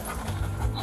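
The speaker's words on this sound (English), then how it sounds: "Get the dog in there?" A police dog pants up close in short, quick, rhythmic breaths, loud and brief, with no talk over it.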